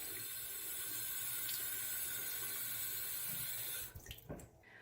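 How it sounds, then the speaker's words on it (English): Tap water runs steadily and close over a pet snake's head at a sink, a continuous splashing stream that cuts off near the end, leaving a few drips and bumps. "running the water on his face"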